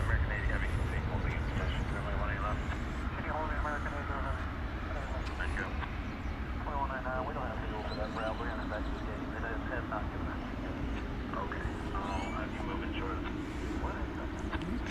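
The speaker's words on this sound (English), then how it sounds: "this aircraft is directed over to the east side for takeoff" An airliner, Flight 80 to London Heathrow, taking off at night from DFW Airport, a steady low engine roar filling the background while people talk over it throughout.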